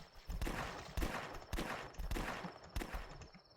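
Gunfire in The Last Stand shooter game: repeated loud bursts of shots roughly every half second, each with a sharp attack and a short rumbling tail, fairly close and dense.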